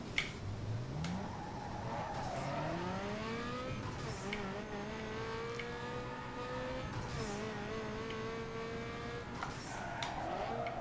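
A Nissan Skyline R34 race car in a Need for Speed Underground 2 drag race revs hard through rising, shifting gears, the engine note climbing and dropping with each gear change, loud and continuous throughout.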